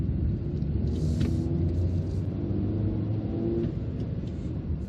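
A 2021 MG3 1.5 hatchback accelerates in second gear around a corner onto a road, its engine a steady low drone with rising harmonic tones, heard from inside the cabin without speech.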